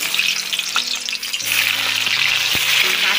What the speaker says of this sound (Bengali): এবার আমার কড়াইয়ে গরম তেল হয়ে গেছে, জিরে, দুটো গোটা জিরে দিয়েছি।